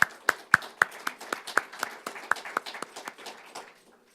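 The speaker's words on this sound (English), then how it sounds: "Please join me in a round of applause for those who helped to make this exhibition possible." Audience members at a Paul Sawyier exhibition event in a university library clap for the people who made it possible, a few sharp, close claps in a quick, uneven rhythm thinning out and fading within seconds.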